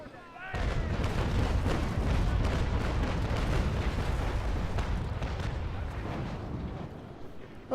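Cannon broadside from a sailing frigate in the naval combat game Naval Action, a sustained rolling roar of heavy booms that starts abruptly and continues for several seconds, with a voice heard over it.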